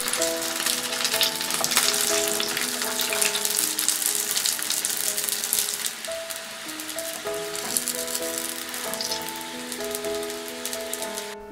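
Steamed chive dumplings fry in hot cooking oil in a saucepan, giving a close, continuous crackling sizzle like light rain, loud at first, then settling a little softer while music plays underneath.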